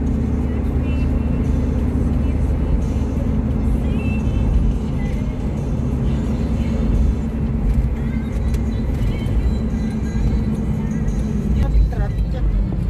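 Steady road traffic heard from inside or beside a car on the way to Philippine Arena, a continuous engine and tire rumble with vehicles passing, while people talk over it.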